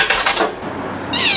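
A house cat gives a short, close meow at the start, and a bright clink of kitchen dishes or cutlery follows near the end.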